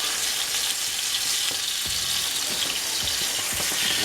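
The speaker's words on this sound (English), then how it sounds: "just let them fry a little bit until they get a nice coating" Country style ribs fry and sear in a pan with a steady, close, broadband sizzle, punctuated by a few soft clicks and pops from shifting meat, continuous and alone with no talk.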